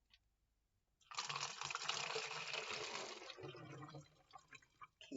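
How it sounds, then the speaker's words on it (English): A full cup of water is poured into a container, producing a steady splashing gush that runs for about two and a half seconds, then tapers into softer trickling and drips, close and quiet. "I'm going to pour it in there."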